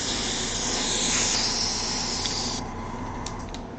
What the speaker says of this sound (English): I'm actually just going to spray it right onto the newspaper